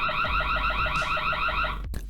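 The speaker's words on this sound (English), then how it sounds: "Okay, I activate the alarm," Electronic alarm siren from a LongPlus X85-S solar-powered security camera, a loud warbling tone pulsing rapidly and steadily for about two seconds before cutting off abruptly.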